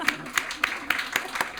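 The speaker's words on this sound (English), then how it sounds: "I was hoping we could start in a slightly cheesy way with a little round of applause" A few sharp hand claps at a public talk, about six evenly spaced slaps in under two seconds, sparse and fairly close rather than a dense ovation.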